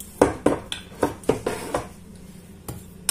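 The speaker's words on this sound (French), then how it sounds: "Maintenant, dans le saladier, vous mettez votre farine. On va mettre une petite cuillère à café de sel." Salt being mixed into flour in a salad bowl, heard as a series of clattering spoon-on-bowl knocks in an uneven rhythm, close and moderately loud, with no talking.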